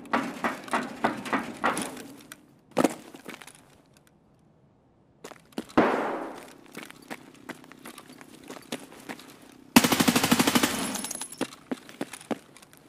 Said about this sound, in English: He's just shooting me through the wall.